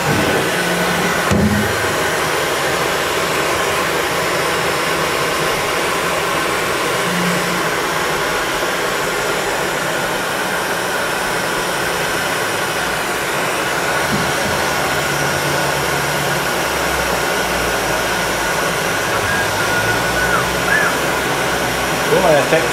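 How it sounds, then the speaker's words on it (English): A hair dryer runs steadily and loudly throughout, heating heat shrink tubing in a tight spot, a continuous broadband whoosh with faint voices underneath. "I'm using your mother's hair dryer"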